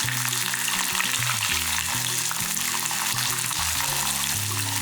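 Garlic and shallots frying in hot oil for a chilli onion chutney. A continuous dense crackling sizzle stays loud and close for the whole stretch, with no talking.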